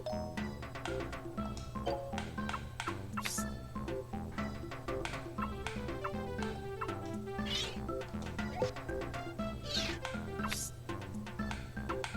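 Meowth's cry from the video game Pokemon Snap, a cat-like call mixed into busy, continuous game music.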